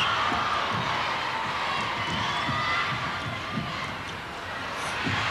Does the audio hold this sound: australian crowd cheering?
yes